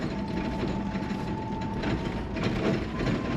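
Electric Toyota Land Cruiser in motion, a steady gearbox transmission whine under a busy rattling clatter from the roof rack, continuous and close, with no engine noise.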